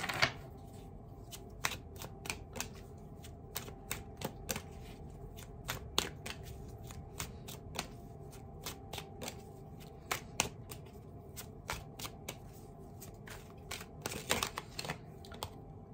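Tarot cards shuffled and dealt by hand, a steady run of crisp riffling snaps and flicks repeating through a quiet room with no talking.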